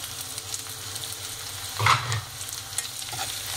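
Curry leaves dropped into hot oil in a pan for beetroot biryani, a close steady sizzle and frying crackle with a brief louder burst as they hit, stirring noises throughout, no talking.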